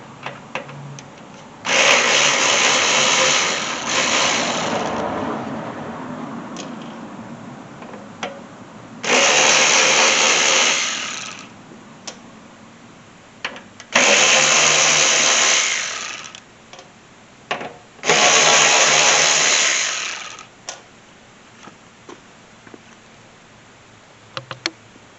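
A handheld power tool backs screws out of the fuel pump on a 2002 Toyota 4Runner in four separate loud whirring bursts of a few seconds each, with quiet pauses and small clicks in between.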